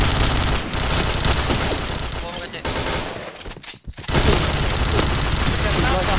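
Rapid bursts of gunfire and booms in a Counter-Strike-style bomb-defusal match, loud and dense throughout with a brief lull near the middle, under excited talk.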